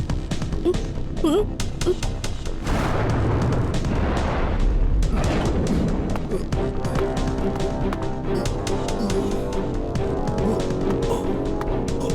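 Firecrackers burst in rapid, crackling volleys with heavier booms mixed in, dense and continuous, loud and close throughout.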